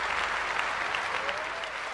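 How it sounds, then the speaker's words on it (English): Steady, dense applause from a phone app, a continuous wash of many clapping hands with no letup and no voices on top. "this app can go 12 hours. 12 hours of applause."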